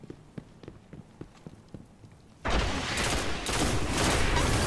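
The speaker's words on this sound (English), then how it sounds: "that grenade was nice" A grenade detonates in a video game, a sudden loud burst of noise that follows a stretch of quiet, sharp clicks and taps and then lingers as a dense, rumbling roar.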